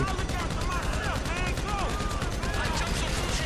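Bursts of rapid gunfire from the GTA V video game crackle in a quick, repeated rhythm during a bank heist mission, mixed with voices talking over the shots.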